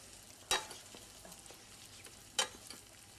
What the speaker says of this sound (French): Et je vais donc bien remuer le tout